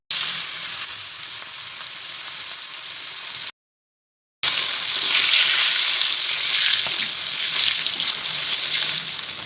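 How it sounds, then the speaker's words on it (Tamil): Parrot fish coated in masala deep-frying in hot oil: a loud, dense, continuous sizzle and crackle, broken by a short gap of silence, then resuming even stronger, no voices. "நம்ம மசாலா போட்டு வச்சுருக்கிறது எல்லாத்தையுமே நம்ம பொரிச்சு எடுத்துட வேண்டியதான்"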